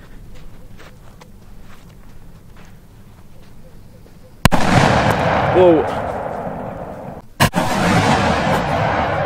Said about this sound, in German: Sind dann die Knaller. Schön alte Böller. Uralte Böller.